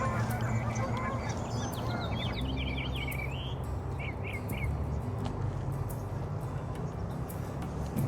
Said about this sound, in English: Follow the sound of the birds.